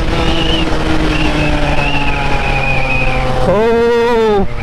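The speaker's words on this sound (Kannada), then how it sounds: "ಸೊ 140 ಪೀಸಿಗೆ ಓಡ್ತಾ ಇದೆ ನಮ್ಮ ಗಾಡಿ" A Yamaha RX135 motorcycle running flat out near 140, its engine droning loud and steady with a high whine, then dropping in pitch and surging again near the end, with wind roar throughout.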